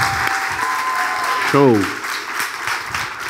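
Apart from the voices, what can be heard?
audience applause for the band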